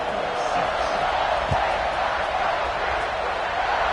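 Steady stadium crowd roar from a College Football 26 video game as a kickoff approaches, a constant loud wash of cheering with a faint thump partway through.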